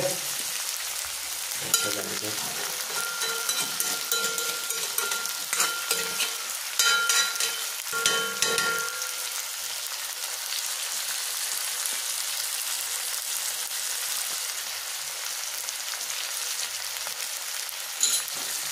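Chicken meat fries in a hot pan for a Manipuri-style chicken dungdung gravy, sending up a steady, dense sizzle with crackles and a few stirring knocks, loud and close with no talk over it.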